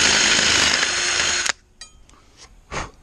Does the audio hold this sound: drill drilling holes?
yes